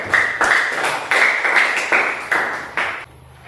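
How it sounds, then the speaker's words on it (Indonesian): Classroom applause for a student group, a dense patter of many hands clapping in bursts with several regular surges, close and lively, fading at the end. "Tepuk tangan dulu"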